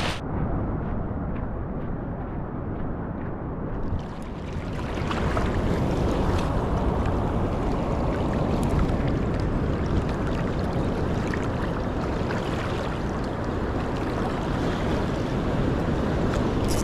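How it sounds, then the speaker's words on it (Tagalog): Rough, churning sea waves on a windy coast at low tide, a loud continuous roar and wash with wind buffeting, quieter for the first few seconds and then steadily heavy. "Walang kalma yung dagat."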